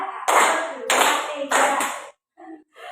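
Hands clap together in short group bursts, three distinct claps spaced evenly about half a second apart, loud and close, followed by brief quieter sounds as the group keeps a counted clapping pattern.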